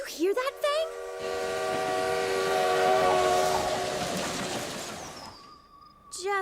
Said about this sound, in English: did you hear that spooky train whistle this morning?